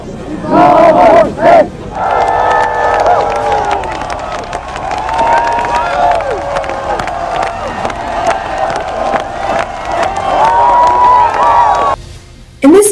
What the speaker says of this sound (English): In this video, you see East Berliners cheering and celebrating